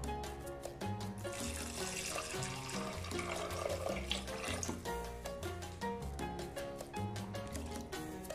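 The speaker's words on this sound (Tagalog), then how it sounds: "Susunod naman natin yung ating tubig. Ito pong tubig na ito, ito yung pinagpakulang ko ng baka kanina." Beef boiling water, saved from cooking beef for beef pares, pours into a pot with a steady, soft liquid splash and trickle, heard under background music.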